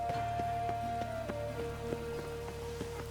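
Light, steady rain falling in The Witcher 3 Wild Hunt, a soft continuous patter with scattered ticking drops, faint and heard alone under a sustained low game tone.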